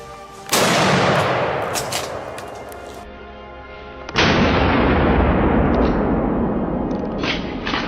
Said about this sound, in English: Then, gunshots rang out across the swamp.